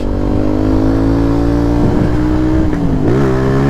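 Zontes 125 motorcycle engine revving hard as the rider tries for a wheelie, a loud, close, sustained engine drone whose pitch rises, dips and climbs again toward the end.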